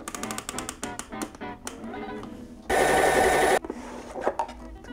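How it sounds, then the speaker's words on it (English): A machine coffee grinder set to a fine grind whirs loudly through beans in a dense, steady burst of roughly a second, framed by clicking and handling noises before and after. "I'm using a machine grinder."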